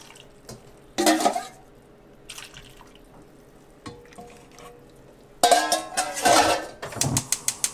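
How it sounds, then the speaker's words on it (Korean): Rice-washing water is poured into a pot of braised mackerel with radish, making two splashing pours: a short one early on and a longer, louder gush near the end, with quiet kitchen clatter in between. "쌀뜨물을 부어주세요."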